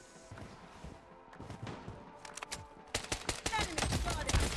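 VSS rifle fire in the mobile shooter Bloodstrike, with an Iron Blood skin, starting with scattered faint shots and building into loud rapid bursts near the end; a voice talks underneath.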